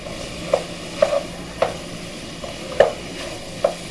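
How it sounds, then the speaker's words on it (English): Food for a lasagna soup browns in a pan, a steady sizzle running underneath while a utensil scrapes and knocks against the pan every second or so, close up. "You want to get this browned up in the pan, just like so."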